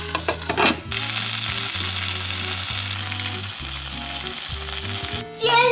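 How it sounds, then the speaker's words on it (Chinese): Boiled dumplings pan-frying in oil in a home kitchen: a loud, continuous sizzle fills the pan, with a brief clatter before it starts and music playing softly beneath. "我把水饺再进行一个煎的动作"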